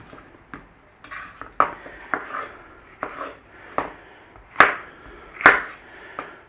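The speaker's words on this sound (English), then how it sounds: "Green pepper or capsicum, whatever you know it by, we're going to cube it." A knife cubes green pepper (capsicum) on a chopping board, making a dozen or so sharp, uneven chops and taps, close and fairly loud, with two heavier strikes near the end and no talking.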